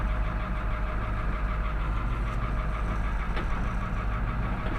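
A bulldozer's diesel engine rumbles steadily at close range while helping an auger wagon across a ditch on a farm during corn shelling, a constant low, throaty drone with a faint knocking texture and no speech.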